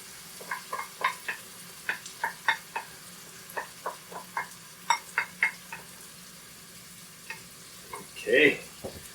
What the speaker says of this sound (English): I want to cook this again about another 8 to 10 minutes. Just let it simmer away here a bit.